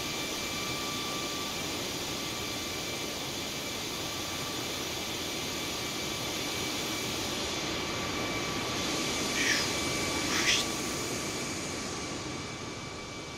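Steady broadband roar of A320 Airbus jet engines in Microsoft Flight Simulator, a constant whine and rush that holds level throughout with a slight swell near the end, no talking.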